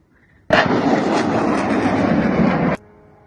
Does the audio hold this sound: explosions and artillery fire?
yes